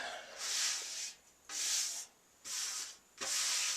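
The rusty fuel tank of a Honda CB550 cafe racer is sanded by hand, with four long, even rasping strokes separated by short pauses, close and clear.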